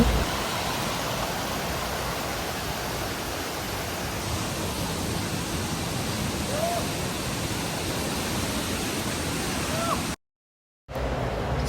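Steady, broadband rushing water from a village waterfall at Bongadari fills the scene continuously before a brief silent gap near the end.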